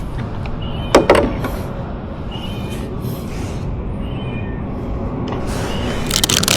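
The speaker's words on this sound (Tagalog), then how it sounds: "Pusa." A cat meows once, close and fairly loud, during an outdoor fishing trip, over steady background noise with faint knocks and a rustle near the end.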